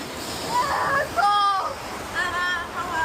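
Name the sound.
waterfall splashing at a ride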